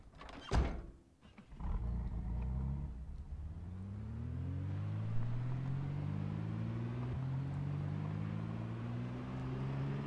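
A car in the video game Project Zomboid, a sharp thunk and then an engine revving up through rising gear-like sweeps, settling into a steady droning cruise at low speed, loud and continuous.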